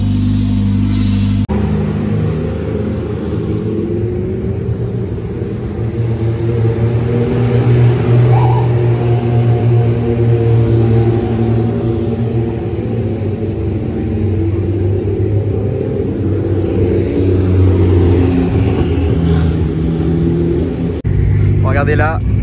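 Ferrari FXX K on the Nürburgring circuit, engine roaring loudly with rising and falling revs and gear changes, a sustained mechanical howl with a voice talking over it.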